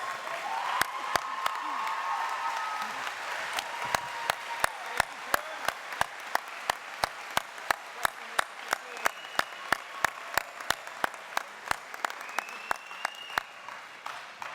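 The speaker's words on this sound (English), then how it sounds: "Join me in giving them a round of applause." Sustained applause from an audience at a high school graduation ceremony, steady clapping with sharp individual claps standing out, gradually thinning toward the end.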